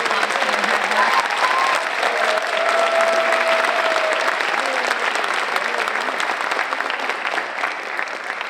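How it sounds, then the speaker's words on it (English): Sustained, thick applause from an audience at an elementary school 5th grade graduation and awards ceremony, steady clapping filling the room for several seconds with faint voices and a cheer underneath, fading slightly at the close. "Can we give all of these students another much deserved round of applause for their hard work?"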